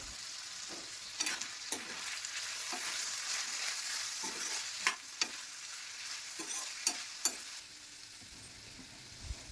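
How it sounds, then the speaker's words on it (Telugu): Ivy gourd frying in a pan with a quarter spoon of turmeric, stirred with a spatula: steady close sizzle with a series of sharp scraping clicks, no voices. "ఇప్పుడు దొండకాయలు వేగుతుండగా పావు స్పూన్ పసుపు వేసి దొండకాయలను బాగా కలుపుకోవాలి."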